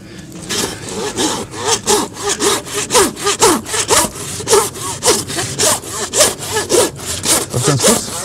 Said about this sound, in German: Sägen ist besser.